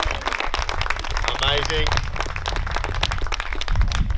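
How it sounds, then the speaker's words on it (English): Wedding guests clapping for a couple after their vows, a dense patter of applause from a crowd, close and lively, with voices and a brief cheer mixed in. "Round of applause for their vows."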